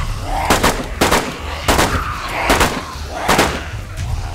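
Repeated loud gunshots in DayZ, five or six sharp cracks spaced roughly every half second to second, close and punchy with short booming tails, no talk.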